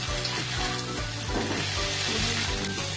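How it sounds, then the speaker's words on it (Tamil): Drumstick leaves sauté in a pan over a low flame, a dense steady sizzle with rhythmic stirring scrapes, close and loud with no talking. "இது மாதிரி கீரை நல்லா வேகிற அளவுக்கு பொறுமையா அடுப்பை சிம்லயே வச்சு நல்லா வதக்கி விடணும்."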